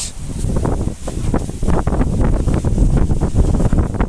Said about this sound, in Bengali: প্রচণ্ড বাতাস আপনারা বাতাসের সবার সব পাচ্ছেন এখানে অনেক বাতাস